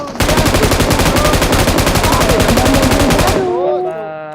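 A long burst of rapid automatic gunfire in the mobile shooter game PUBG Mobile, loud and close and evenly paced for about three seconds. It then stops abruptly and leaves a brief ringing tail, with no voices over it.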